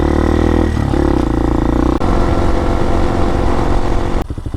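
A Hawk DLX motorcycle engine with Delphi EFI idles low and steady, a loud, close, even rumble running throughout with no talking.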